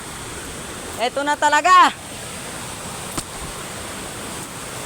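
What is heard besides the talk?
waterfall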